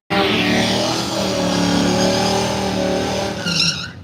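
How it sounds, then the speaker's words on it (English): Race cars at a live racing event, engines roaring loudly with rising and falling pitch as they accelerate past, plus a brief tire squeal near the end. "Racing action's underway."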